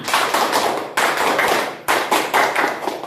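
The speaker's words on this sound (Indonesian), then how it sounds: "3 kali tepuk tangan" A class of students claps together three times, each synchronized burst of hands sharp and loud, spaced about a second apart, with no voices over the claps.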